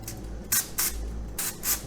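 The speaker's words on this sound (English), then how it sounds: "Go ahead and get your spray and just kind of" Four short hissing spritzes from an aerosol cooking spray can onto breaded pork chops in an air fryer, in two quick pairs, close and fairly loud over a low background hum.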